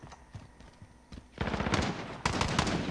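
Shotgun fire in Call of Duty Modern Warfare gun game, loud rapid blasts starting after a quieter stretch of soft game noise, then a second strong burst near the end.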